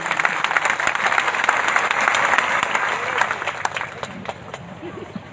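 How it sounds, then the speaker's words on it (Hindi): An audience at a gathering claps to welcome a visiting minister, a dense burst of applause that continues steadily and tapers slightly toward the end. "एक बार ताली बजाकर इनका स्वागत कर दीजिए"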